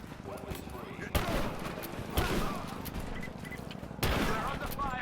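Gunfire in the Rise of the Tomb Raider video game, a few sharp, loud volleys spaced about a second apart, each with a brief rattling tail, over steady game ambience.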